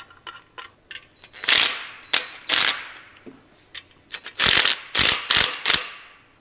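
A ratchet wrench running bolts into a Ford flathead V8 engine block, with loud, close bursts of rapid clicking in several separate strokes and brief pauses between them.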